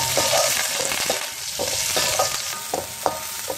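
Green chilies, curry leaves and small onions sizzle steadily in oil for a mutton gravy, a dense, close frying hiss with scattered spatula scrapes and clicks throughout.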